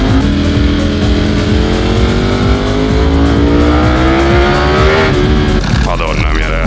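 A Ducati Streetfighter V4S motorcycle ridden on the road near Catania, its engine loud and close with a rising, climbing pitch as it accelerates, then a shift and rougher note near the end; a rider talks over it.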